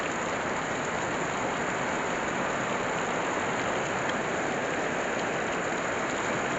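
Heavy rain pours steadily during flooding and landslides in a village in Enrekang, a dense, even hiss without breaks or voices.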